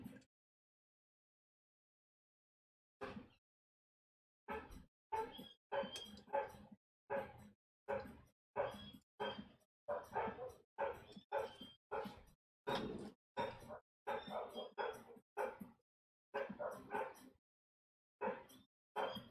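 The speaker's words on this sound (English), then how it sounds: "Dogs, what are you barking at?" Dogs barking outdoors near a driveway: after a few seconds of quiet, a long run of sharp, repeated barks in uneven bursts, fairly close and clear with no talk over them.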